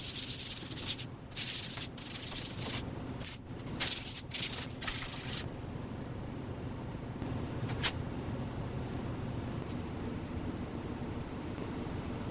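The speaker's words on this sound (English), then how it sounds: "we'll give it a light sanding with 220 sandpaper just to knock the fuzz off" Rough 220-grit sandpaper strokes rasp over a primed surface in a quick back-and-forth rhythm for several seconds, then stop, leaving a steady low background hum.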